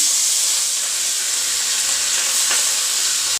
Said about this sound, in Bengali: ভাজা হয়ে গেছে গন্ধ ছেড়ে দিয়েছে তার মানে মশলাটা ভালো ভাজা হয়ে গেছে